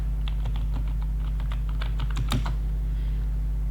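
Rapid keystrokes on a computer keyboard while typing text into Microsoft Word, a close run of light, uneven clicks over a steady low hum.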